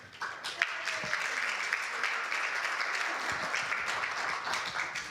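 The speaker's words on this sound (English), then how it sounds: "People are applauding because they know what that means." A church congregation at a Sunday unity service applauds, a steady wash of many hands clapping at moderate volume that carries evenly through the room for several seconds.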